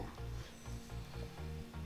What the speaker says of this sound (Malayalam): ഇനി അതിലേക്ക് നമ്മൾ കുറച്ച് ഓയിൽ ഒഴിച്ചു കൊടുക്കുകയാണ്.